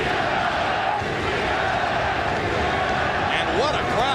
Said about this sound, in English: And what a crowd. They go back and forth, chanting, cheering, challenging each other